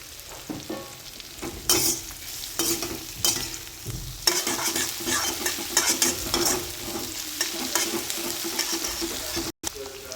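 Chilli ingredients and plenty of garlic being stirred in a sizzling pan, with steady frying hiss and repeated scraping strokes of a spoon against the metal, close and fairly loud with no talking.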